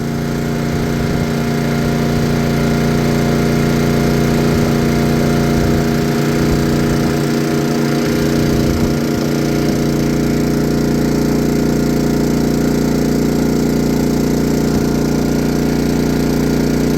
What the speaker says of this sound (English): Hear it load the motor.